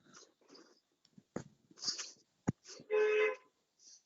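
A short car horn honk sounds amid scattered clicks, bumps and breathy noises, muffled and moderately near, with no talking.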